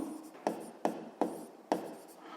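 Pen or chalk writing out Hooke's law formula during a physics lesson: four short distinct strokes tapping and scratching at steady intervals, close and quiet, with no talking.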